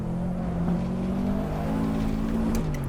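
Subaru WRX engine in Assetto Corsa, all-wheel-drive rally-style tune on a Pikes Peak run, droning steadily at moderate revs with a constant close engine note and slight pitch shifts throughout.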